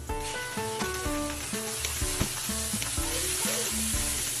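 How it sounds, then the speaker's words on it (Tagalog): Butter melting in a pan while making tuna carbonara, a close bright sizzle crackling throughout under a repeating tonal pattern, with no one speaking. "Tumawin lang natin yung butter."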